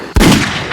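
A gunshot sound effect played on a podcast: a single sharp bang after a brief quiet, followed by a booming decaying tail.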